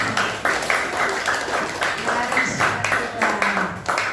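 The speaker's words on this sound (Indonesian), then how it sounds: "Tepuk tangannya dari kelompok Ar-Rahman." A group claps and cheers together, a steady burst of applause that stays busy for several seconds with voices mixed in.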